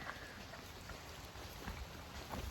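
Steady, dense rain hisses continuously, with scattered drops pattering nearby on a surface.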